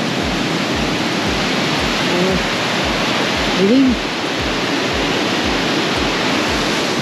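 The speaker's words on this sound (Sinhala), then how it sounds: "ඔක තමයි waterfall එක." The waterfall at Devil's Punchbowl, Arthur's Pass, roars as a steady, dense wash of falling water throughout, with a voice briefly speaking over it.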